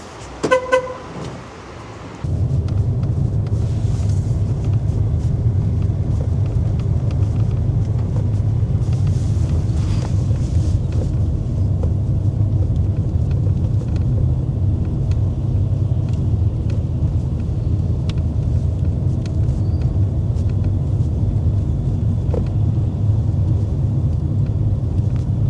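Steady, loud engine and road rumble from inside a car driving through Mendoza, Argentina, in the evening. The drone begins after a brief quieter moment and continues unbroken, with no talk.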